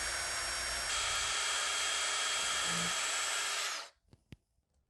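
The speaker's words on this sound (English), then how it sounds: "drill the holes to accept the screws" A power drill whirs loudly and steadily for about four seconds drilling screw holes for miniblind brackets, then stops, leaving a few faint clicks and taps.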